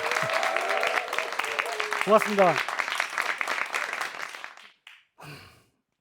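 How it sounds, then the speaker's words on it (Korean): Audience applause follows a call for a round of hands at a Korean small-business owner's talk, dense steady clapping with a brief voice over it, fading out near the end, after which a voice says a short thanks. "박수 한번 주세요"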